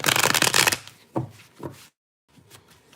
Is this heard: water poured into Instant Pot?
no